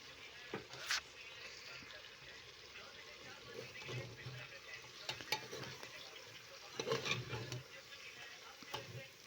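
A spoon scrapes and stirs through wet, thick chicken meat in a spice mixture in a pot, with soft irregular sloshing and occasional clinks, fairly quiet.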